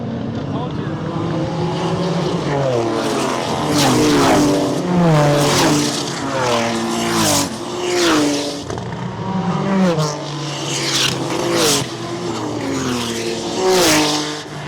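BMW race cars compete in the final race of a club racing event, their engines loud and close throughout, pitch climbing and dropping through repeated gear changes and passes, with a commentator's voice partly audible under the din.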